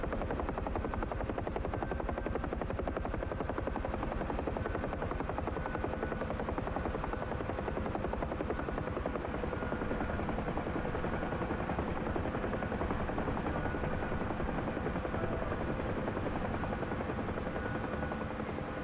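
Helicopter in the DCS World flight simulator game, a steady loud rotor and turbine drone running continuously with dense broadband thump and whine, no talk over it.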